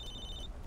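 A phone rings in the Cursed Halo 3 video game, a brief high electronic ringtone chirping over a low rumbling game background, with no one speaking.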